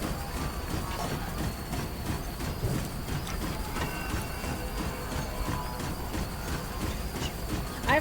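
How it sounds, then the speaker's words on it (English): A train rumbles past in The Long Dark video game, a continuous mid-level clatter with faint rhythmic clicking and metallic tones, steady throughout with no talk. "I have to say the sound of the train is very, very calming, very soothing."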